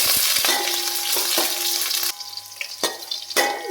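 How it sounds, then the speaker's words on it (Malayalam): Green chillies, ginger and garlic sizzle in hot oil for a beef curry while being stirred. Loud frying hiss comes with several sharp scrapes of a spoon against the pan, then quieter crackling. "പച്ചമുളകും നല്ലോണം ഇളക്കി കൊടുക്കാം കരിഞ്ഞു പോകാൻ നോക്കണം കേട്ടോ"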